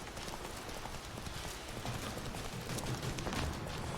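Roach, the horse in The Witcher 3, gallops with a steady, rapid clip-clop of hooves under a constant wash of ambient game noise.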